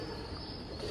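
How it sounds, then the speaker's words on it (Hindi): Soft pigeon cooing at Humayun's Tomb sits within a steady wash of background noise, low and fairly faint throughout. "कबूतरों ने डेरा डाल रखा है यहाँ तो"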